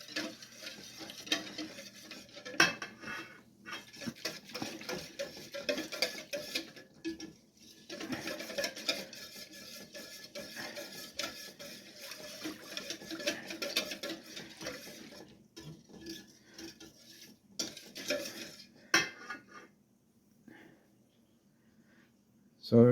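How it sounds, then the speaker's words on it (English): Coconut cream pie filling is stirred steadily in a pot as it heats and thickens, a continuous soft scraping and swishing with occasional light clinks against the pan, close and moderately quiet. "Keep stirring it. As it heats up, it'll get thicker."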